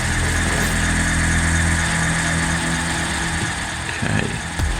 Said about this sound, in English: Someone's already got the drill on the safe there.